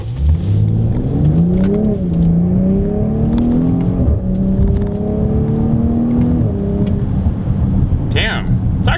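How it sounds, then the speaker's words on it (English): 2019 BMW X5 40i xDrive SUV accelerating hard from a standstill to sixty, engine note climbing through several gear changes in a loud, continuous interior roar, with a brief voice at the end. "I want to do a 0 to 60."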